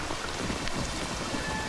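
Steady rain falls in a dense, even wash with no pauses and no voices, a constant hiss lasting the whole stretch.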